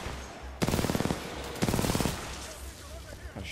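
Two bursts of rapid automatic gunfire in Titanfall 2, each lasting about half a second, fairly quiet and separated by a short pause, with a softer shot near the end.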